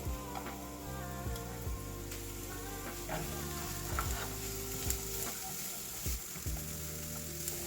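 Chopped onions sizzling in a pan for a Lion's Mane mushroom stir fry, a close, steady crackle with repeated spatula scrapes and taps against the pan at an irregular rhythm, and no voices.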